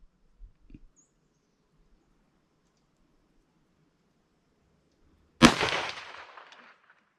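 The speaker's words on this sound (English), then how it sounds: "I'm gonna shoot 2. I'm shooting." A single sharp rifle gunshot cracks out during deer hunting and rolls away in a decaying echo, preceded by a few seconds of near silence and faint small noises.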